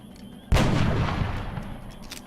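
A sniper rifle fires in the video game XCOM: a single loud, sharp shot about half a second in, followed by a rolling decay that fades slowly.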